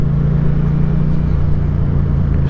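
A Mitsubishi Lancer runs along a road in Iloilo, heard from a following motorcycle as a steady, loud, low engine drone with no pauses or talking.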